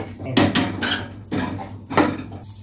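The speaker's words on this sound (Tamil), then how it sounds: "இதை வேற பாத்திரத்தில் மாத்திடணும்." Roasted moong dal is tipped from one vessel into another, giving a few sharp metallic clinks and scrapes in quick irregular bursts, close and fairly loud.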